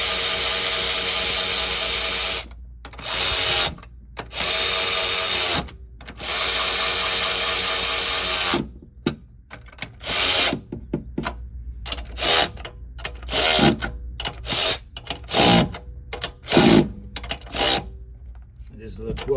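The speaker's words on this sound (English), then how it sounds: "This is a 12-volt gun," A 12-volt impact gun with a 10mm socket tightens bolts on a gas EZGO golf cart. Several loud buzzing bursts are cut by silent gaps, then a quicker run of short rattling pulses follows.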